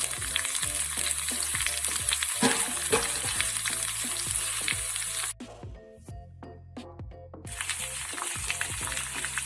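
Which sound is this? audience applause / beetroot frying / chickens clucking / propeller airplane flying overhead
beetroot frying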